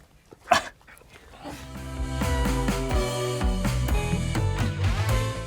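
A puppy gives a single sharp yip, then short whimpers and barks sound close by beneath ongoing music.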